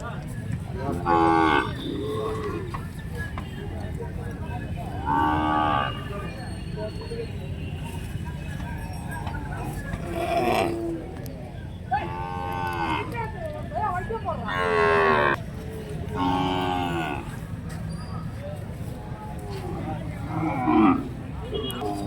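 Cattle and calves at a cattle market in Tiruvannamalai during the Deepam festival on a rainy day, with repeated loud moos close by over a steady crowd murmur and people talking.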